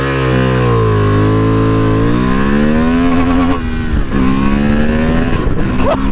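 A motorbike launches hard with traction control switched off, its engine climbing loudly through the revs, dipping briefly at a gear change, then rising again close up with no one speaking.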